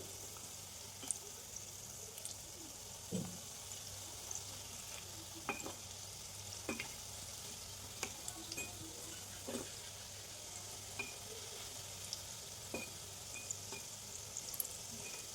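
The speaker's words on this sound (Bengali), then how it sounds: "বাকিগুলো এইরকম করে ভেজে নিব" Pieces of food frying in hot oil in a home kitchen, a steady faint sizzle with scattered pops and occasional stirring or turning clicks throughout, no voices.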